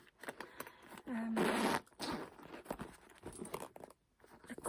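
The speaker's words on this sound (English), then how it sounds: "Let me check the zipper, how it's working." A Louis Vuitton Pochette Metis bag's zipper pulled in one quick continuous run lasting under a second, close and fairly loud, with faint handling noises before and after.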